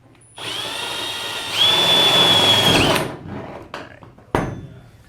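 A power drill whirs steadily while drilling through an enclosed trailer's roof, rising in pitch as it bites harder, then cuts off, followed by a few clunks and a sharp knock.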